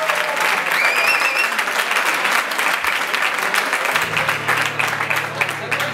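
A crowd at a live rock concert applauds loudly and continuously, with cheers and a whistle rising over the dense clapping, while a low held tone enters partway through.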